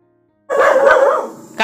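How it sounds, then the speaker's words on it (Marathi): Village dogs bark close by and loudly, with one full bark followed by the sharp start of a second, against an otherwise quiet background. "हे बघा बाहेर गेले होते, आता भुंकतायत."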